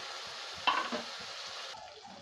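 Turmeric and chili powder frying with banana flower curry in a hot pan, a constant close sizzle broken by a couple of brief stirring scrapes and clatters.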